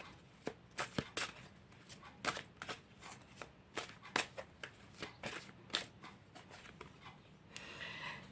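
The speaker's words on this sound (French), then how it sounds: "On va déjà battre les cartes." A deck of tarot cards is shuffled by hand in a quiet room, giving a run of crisp, close riffling snaps and flicks at an uneven rhythm, closing with a brief, steady papery rustle.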